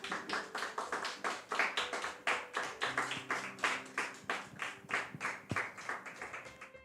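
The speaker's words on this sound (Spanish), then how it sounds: "Ponte de pie, iglesia, y dale un aplauso al Señor en esta mañana." A church congregation claps along in a steady, rhythmic beat for several seconds, the sharp hand claps close and dense with a faint sustained tone underneath.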